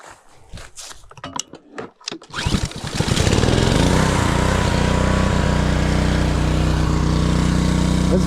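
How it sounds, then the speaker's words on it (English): A gas-powered pressure washer engine is pulled and coughs to life, then settles into a loud, steady, close-up droning idle for several seconds. "So now I'm going to start up my gas powered pressure washer"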